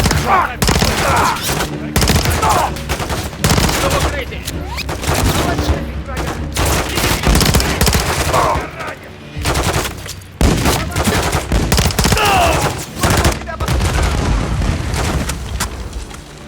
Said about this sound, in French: L'ennemi tire depuis l'entrepôt. Tire à vue.